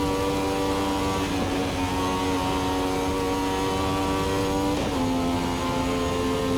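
Ferrari 312T Formula One racing car engine, a loud high-pitched drone holding steady, dipping briefly near the end before climbing again, with no voices.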